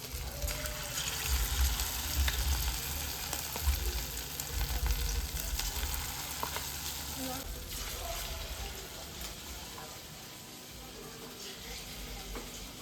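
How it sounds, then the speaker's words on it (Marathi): Marinated chicken 65 frying in hot oil over a low flame, a soft continuous sizzle with occasional bubbling, moderately quiet and steady. "चांगले आपण बारीक गॅसवर आहे ना 2-3 मिनिटं फ्राय करूया"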